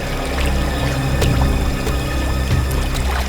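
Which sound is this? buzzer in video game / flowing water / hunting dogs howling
flowing water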